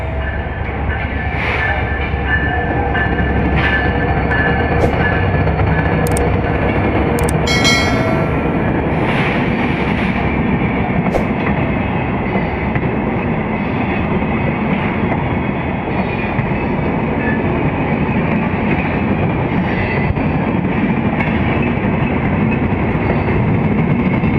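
The Madhumati Express train rumbles steadily past a railway crossing at close range for a long stretch, wheels clattering on the rails with occasional high metallic squeals.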